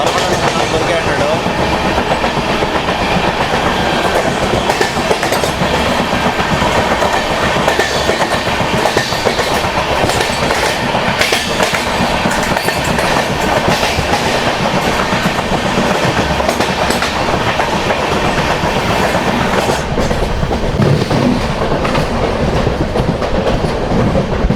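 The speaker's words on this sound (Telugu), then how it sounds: "మహబూబ్ నగర్ నుంచి విశాఖపట్నం వెళ్ళే ట్రైన్ అయితే ఓవర్టేక్ చేస్తున్నాము" Duronto Express 22204, a superfast train running from Secunderabad to Visakhapatnam, rolls along the rails with a loud, steady rumble and continuous clickety-clack that lasts the whole stretch.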